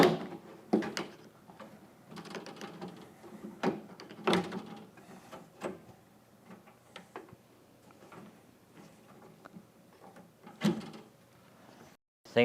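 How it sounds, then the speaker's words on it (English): A weatherstrip tool prying the beltline off a Ford Bronco door, with irregular close plastic clunks and clicks as the door clips release, some louder knocks among quieter rattling. "what he's doing is pulling the belt away from the body and kind of lifting up on it a little bit"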